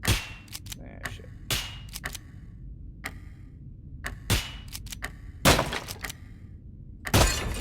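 Sharp gunshots from the horror shooter game Nightmare of Decay, a dozen or so loud cracks fired at irregular intervals, some in quick bursts, with quiet stretches between.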